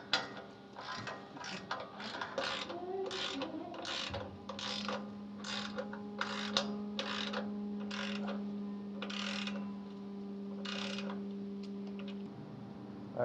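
A 9/16 wrench drives 3/8 self-tapping bolts into the frame of a 5th gen 4Runner to mount a rock slider, giving a long run of quick, evenly spaced ratchet clicks over a steady low hum, close and clear with no talk.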